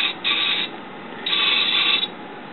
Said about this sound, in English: the servo opens up the TVIS